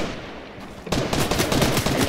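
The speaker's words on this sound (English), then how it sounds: "He's shooting at me." Video game gunfire erupts after a brief lull, a loud, rapid automatic burst of shots close up with no talking.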